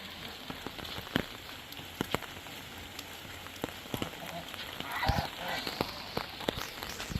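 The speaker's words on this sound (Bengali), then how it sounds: "এই আছে পরিবেশ বান্ধব বৃষ্টি," Rain falling on a rainy day outdoors, a soft, continuous patter with scattered sharper drips and taps on surfaces, faint and fairly close.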